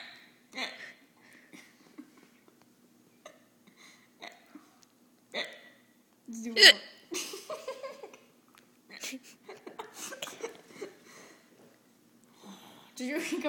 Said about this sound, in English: Fierce hiccups.